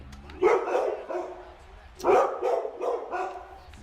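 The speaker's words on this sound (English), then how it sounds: "my dogs are just gonna bark away" Two dogs bark in a home in short bursts of two or three woofs, coming in two clear clusters. The barks sit at moderate distance and stand out above a quiet room.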